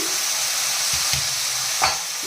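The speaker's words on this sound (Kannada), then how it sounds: "ಸೊಪ್ಪು ಈರುಳ್ಳಿ ಟೊಮೆಟೊ ಎಲ್ಲನೂ ಎಣ್ಣೆಯಲ್ಲೇ ಚೆನ್ನಾಗಿ ಬೇಯಲಿ" Leafy greens, onion and tomato sizzle steadily in hot oil, with a spatula stirring through the pan and a couple of soft scraping knocks over the constant frying hiss.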